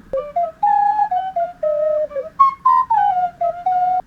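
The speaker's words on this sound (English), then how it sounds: "To make it sound more goblin-y, I doubled her flute sound with a recorder I bought at the dollar store." A flute melody is doubled by a cheap dollar-store recorder, and the two slightly mistuned lines give a thin, whistly, dissonant tone. The short sustained notes rise and fall in a simple tune, close and clear, with no voices.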